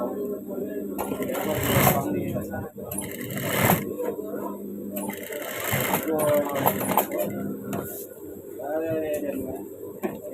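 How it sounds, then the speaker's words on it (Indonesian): Sewing machine stitching a ribbon along a marked line in bursts of rapid mechanical whirring, starting and stopping, with a person talking between and over the runs. "Kita jahit pas yang sudah kita garis ya."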